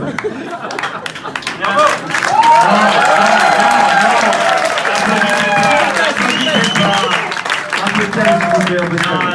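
An audience claps and cheers at a wedding speech staged as a mock trial, the applause swelling after a quieter start amid lively chatter and overlapping voices.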